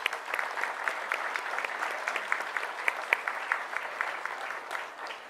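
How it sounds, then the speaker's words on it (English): An audience claps continuously for several seconds, a dense, even patter of applause with no voices over it. "Let's give everyone a round of applause."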